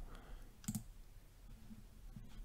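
A computer mouse clicking while selecting a font, giving a quick double click and a couple of fainter clicks over a quiet background hiss.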